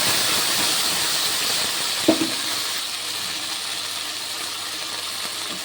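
Spices go into hot oil in a pan of fried beans and potatoes, raising a steady, fairly loud hiss with one brief clink partway through.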